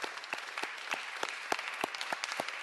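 Attendees at a public board meeting applaud, a soft, fairly distant patter of several people clapping with a few sharper individual claps standing out, continuous for a few seconds.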